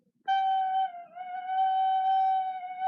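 A soft recorder note played with too little breath, a single steady wavering tone lasting nearly three seconds with a brief dip in the middle, heard alone and fairly close.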